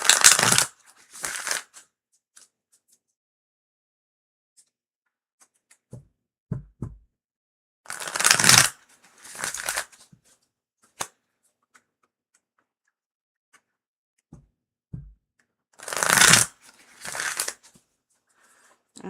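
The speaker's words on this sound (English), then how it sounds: "Turn around, upside down, sideways, and then we shuffle." Tarot and oracle cards are shuffled in three separate bursts of papery riffling and flicking, close and crisp, with quiet taps and card handling in the pauses between.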